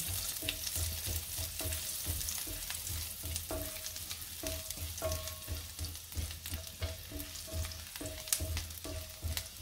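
Garlic fries in a pan for vegetable fried rice, giving a soft, steady sizzle broken by light stirring taps, with faint repeating music in the background.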